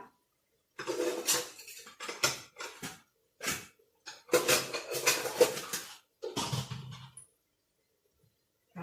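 Steamed fish and hot soup are ladled from a pot into a serving dish. The clinks and scrapes of utensils on metal and crockery come in a series of close bursts separated by brief silences, with no talking.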